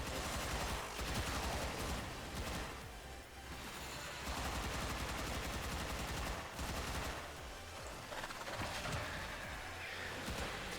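Dense, continuous bursts of weapon fire aimed at Bombard enemies in the video game Warframe, rapid overlapping shots and blasts sustained loudly throughout with only brief dips.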